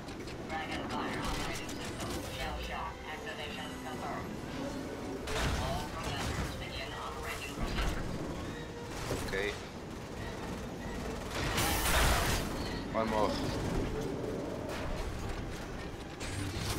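The cannon shell loading mechanism in Lost Planet 2 sets off a busy, continuous run of mechanical clanks, ratcheting and gear noise. Game sounds and faint voices mix in around it.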